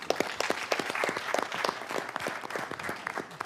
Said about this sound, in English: So if you can't give him a round of applause real quick.